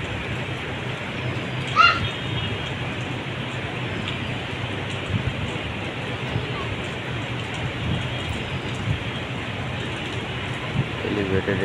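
Steady rain falls over Dhaka city near an elevated expressway, a dense, even wash of patter that continues throughout, with one brief louder knock early on.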